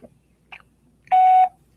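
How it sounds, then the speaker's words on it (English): A voicemail beep after a phone greeting: one clear, steady electronic tone lasting about a third of a second, preceded by brief faint clicks and otherwise near silence. "Please leave a message after the beep."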